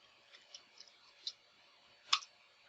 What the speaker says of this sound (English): you have to type your password here